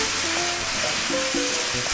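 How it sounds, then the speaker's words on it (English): Pork skewers for pinchos morunos sizzle steadily in hot oil as they are turned in the pan, a continuous close frying hiss with a few soft knocks and scrapes and no talking. "I just want to flip them over, you know, so they get coated with the oil."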